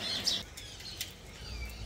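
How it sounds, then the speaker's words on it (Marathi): Sparrows give a few faint, distant chirps, one sharper tweet standing out early, over quiet outdoor ambience. "बघा या ज्या चिमण्या आहे, असा आवाज जो आहे ना"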